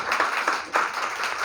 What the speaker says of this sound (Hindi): तो लड़के अपने लिए ताली बजा दो यार सामने से